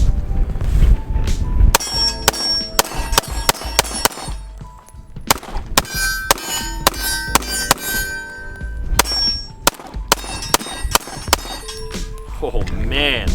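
A BUL Armory SAS II Tac Line 2011-style pistol fires at the range in a rapid string of sharp, loud shots with ringing metallic clangs, close up, with brief talk around the shooting.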